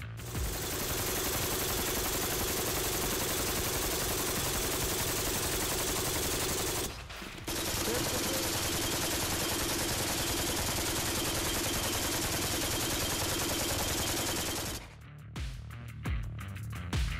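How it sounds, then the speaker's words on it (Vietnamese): Kalashnikov AK-12 rifle fired on full auto until empty during a manufacturer endurance test, a dense, unbroken roar of rapid shots lasting many seconds, a brief pause midway, then stopping abruptly near the end. "chuyên gia đã thực hiện khai hỏa khẩu AK-12 ở chế độ liên thanh cho đến khi hết đạn"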